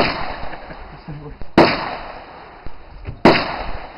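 Two sharp rifle reports from a customized Mauser fired outdoors after boresighting, spaced about a second and a half apart, each a loud crack with a brief tail over steady background hiss and faint voices.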